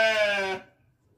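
A sleeping sheep lets out one loud, strained bleat lasting just over half a second, then cuts off into near silence.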